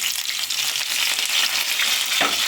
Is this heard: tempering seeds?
yes